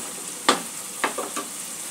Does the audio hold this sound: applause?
no